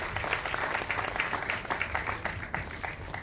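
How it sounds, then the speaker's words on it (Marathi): At a music launch for a Marathi film, an audience applauds the cast with sustained, loud clapping from a crowd, with some individual claps standing out in an uneven rhythm. "एकदा जोरदार टाळ्या या सर्व कलाकारांसाठी."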